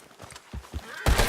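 Horse in the Red Dead Redemption 2 video game: a few quick hoof thuds and a snorting burst at the end, close and fairly loud, with no talk.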